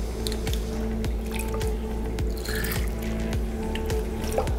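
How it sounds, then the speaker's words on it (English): Water drips and trickles as a small measuring cuvette is emptied and rinsed during chlorine analyzer calibration, with soft splashes and squishy liquid sounds over a steady background hum. "Empty the cuvette and flush it."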